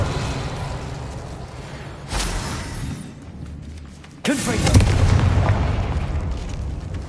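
A Confringo fire spell in Hogwarts Legacy on PS5 bursts into a sudden loud boom over a busy game background, followed by rumbling debris.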